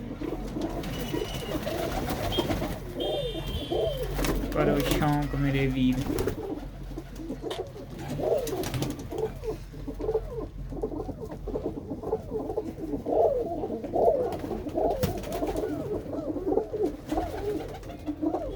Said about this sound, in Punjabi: ਇਹਦੇ ਵਿੱਚ ਸ਼ਾਇਦ ਕਬੂਤਰੀਆਂ ਆ ਸਾਰੀਆਂ